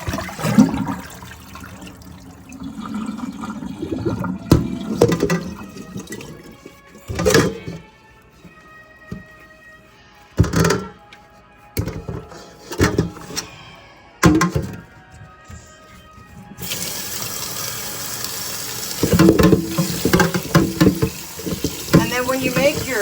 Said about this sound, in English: And then I'll just change out the water.